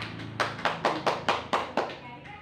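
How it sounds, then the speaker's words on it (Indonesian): A small classroom group claps for a fellow student, around eight sharp, evenly spaced claps close by that thin out and stop after about two seconds. "beri aplaus pada temannya"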